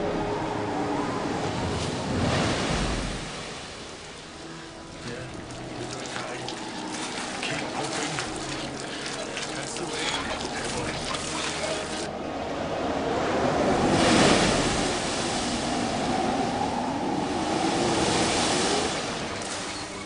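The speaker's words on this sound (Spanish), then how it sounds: "El mar empezó a levantarse. El viento cada vez soplaba más fuerte." Rough open sea off South Georgia, aboard a small boat with waves building and wind strengthening, heard as a continuous roaring rush of water with surging swells, loud and close throughout.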